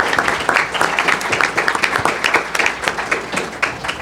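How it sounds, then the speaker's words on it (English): A forum audience applauds city council candidates with steady, dense clapping, close and loud throughout the short burst. "please give them a round of applause."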